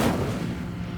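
Incendio fire spell cast in Hogwarts Legacy, a single loud burst with a rumbling, booming body that decays over about a second, heard alone.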